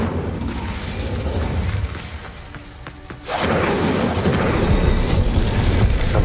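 An Incendio fire spell blasting in the video game Hogwarts Legacy, a loud whooshing burst that swells suddenly after a quieter stretch and then roars on steadily like flames, dense and close.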